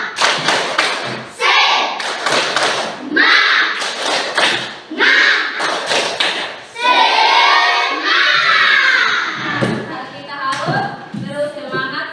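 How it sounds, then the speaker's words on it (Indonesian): A class of schoolchildren standing for a rhythmic spirit clap: loud, close bursts of patterned claps and stamps in quick sets, then a stretch of shouted group chanting voices with a few more claps at the end. "Semangat, tepuk semangat."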